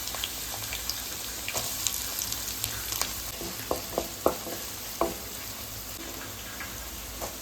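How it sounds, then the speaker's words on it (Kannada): Onions fry in hot oil in a pan for noodles, a steady close sizzle with scattered crackles and pops throughout, no talk. "ನೀರುಳ್ಳಿ ಹಾಕ್ತಾ ಇದ್ದೇನೆ."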